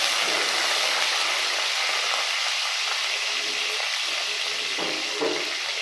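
Onion frying in a pan with cumin, mustard seeds and curry leaves for a brinjal sambar, giving a loud, steady close sizzle and crackle with occasional stirring scrapes.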